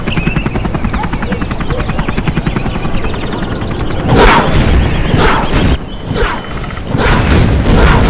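A helicopter gunship from Command & Conquer Zero Hour thrums with rapid rotor chopping, then heavy bursts of cannon fire and booming explosions break in, loud and close throughout.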